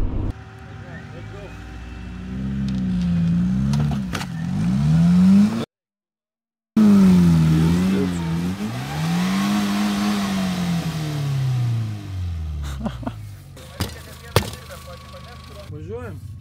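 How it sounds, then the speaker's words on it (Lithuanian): Renault Twingo engine revving hard while the car is hauled out with two ropes joined together, a loud close engine note rising and falling in repeated surges, cut by a brief dropout, with people talking over it. "Reikėjo tą gazą paspausti."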